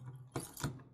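Keys rattle and turn in the lock of a camper door, two short metallic clicks and jangles close by, with a quiet hum between them.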